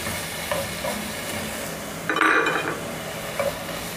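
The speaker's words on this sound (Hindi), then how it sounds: "जैसे 1 मिनट हमने इसको भूनना है खोए को" Khoya roasting in a pan for matanjan, with a low steady sizzle, scraping stirs and a couple of brief metallic clinks of spoon against pan, one louder burst midway.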